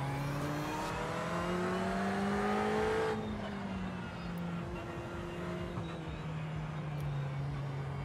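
A Ferrari race car engine in the iRacing sim drones at high revs, drops in pitch partway through, then settles into a steady lower hum, loud and continuous.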